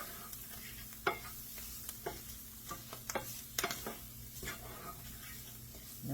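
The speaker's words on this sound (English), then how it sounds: "Stir that all around." Beef stroganoff sizzling in a pan as flour is stirred in, soft steady frying under a series of irregular clicks and scrapes from the spoon against the pan.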